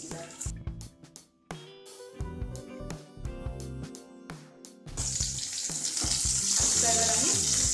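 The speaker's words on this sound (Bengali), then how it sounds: "এবার আমি আলুগুলো ভালো করে ভেজে নেব। একটু নুন দিয়ে দিলাম আর একটু হলুদ দিয়ে দিলাম।" Potatoes fry in hot oil seasoned with salt and turmeric for a Bengali vegetarian dhokar dalna, a steady close sizzle that swells louder and denser toward the end, broken by intermittent clattering stirs and utensil knocks.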